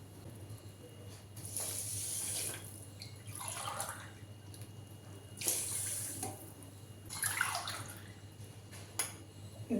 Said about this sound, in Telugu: 3 గ్లాసెస్ వాటర్ వేసుకోవాలి